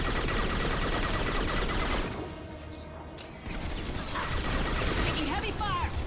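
Heavy gunfire in the video game Mass Effect 2, a dense, continuous barrage of shots with a brief lull midway, loud and close, with a voice speaking over the fighting.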